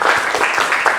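A classroom group applauding together in a brief, dense burst of clapping, loud and close.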